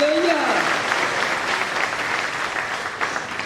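A church congregation at a Nepali prayer house claps together in loud, dense applause that fills the whole stretch, steady and close; a voice calls out briefly at the start.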